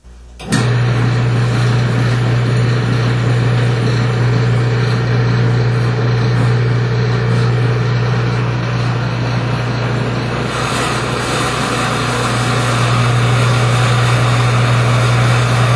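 A cross axis test machine's drive motor, running with motor oil, starts abruptly and runs with a loud, steady hum and a constant low drone, unchanging throughout.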